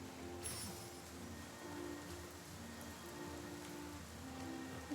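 Steady rain falling in Infinity Nikki, a soft continuous patter with quiet background music and no talk.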